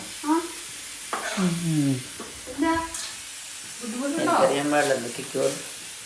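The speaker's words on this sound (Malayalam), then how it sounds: "ഇവിടെ കറി വെച്ചുകൊണ്ടിരിക്കുകയാണ്." Potato curry cooks in a pan with a low sizzle and occasional stirring scrapes, mostly under close conversational talk from a couple of voices.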